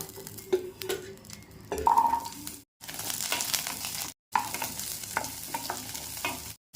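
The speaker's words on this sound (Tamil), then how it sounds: "தக்காளியும் வெங்காயமும் வதக்கலாங்க" Onions and tomatoes sautéing in a pan, a steady frying sizzle broken by scraping stirs and a couple of abrupt cuts in the sound, with a faint tonal beep partway through.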